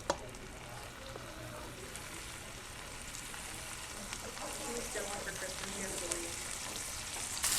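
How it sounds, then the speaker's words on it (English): Brussels sprouts frying cut side down in melted butter in a pan, giving a steady, close sizzle and crackle that holds throughout, with occasional brighter pops and a few faint utensil touches. "now we're going to start adding our Brussels sprouts. Cut side down, keeping them in that butter."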